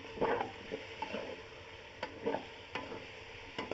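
Chicken for Karachi-style biryani fries in a pot with steady sizzling, broken by several spoon scrapes and stirs at irregular intervals; no voices.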